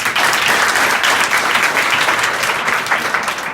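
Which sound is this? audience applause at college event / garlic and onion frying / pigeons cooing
audience applause at college event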